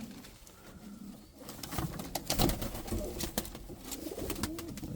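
A fantail pigeon coos softly among close rustling and handling noise, low and fairly faint, with no talk.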